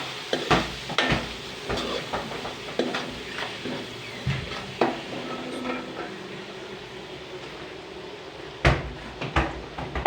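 A spoon clatters against a cooking pot as mixed vegetables and a little water are stirred for a Punjabi mixed vegetable pilau, with irregular knocks and scrapes close by and soft background noise.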